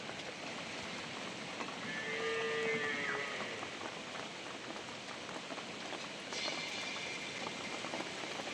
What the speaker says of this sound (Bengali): আমি এখানে আমার মতন বড়াগুলোকে ভেজে নিচ্ছি।